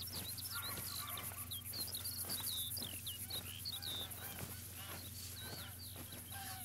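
Geese in flight in the hunting game The Hunter: Call of the Wild, in the Hirschfelden area, giving repeated honking calls at moderate distance over a steady outdoor ambience with chirping birds and insects.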